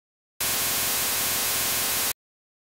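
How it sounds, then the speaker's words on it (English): Raw noise channel of the NES sound chip, a loud steady burst of harsh static hiss lasting under two seconds, starting and stopping abruptly, with silence around it. "And here's what the noise channel sounds like."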